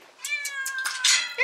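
A cat meows in a single drawn-out, rising call up close, loud and clear against a quiet room.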